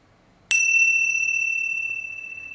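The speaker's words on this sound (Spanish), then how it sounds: "Y mientras suenan las campanillas, hacemos 2 o 3 respiraciones" A small chime rings once during a guided breathing meditation, a clear bright strike that hangs and slowly fades over a couple of seconds in an otherwise quiet room.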